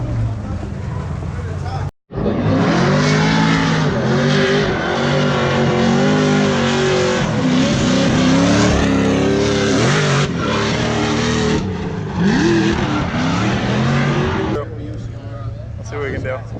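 Drift cars at Formula Drift Orlando roar and rev loudly and continuously, engine pitch rising and falling repeatedly, with a brief dropout near the start, while people talk over the din.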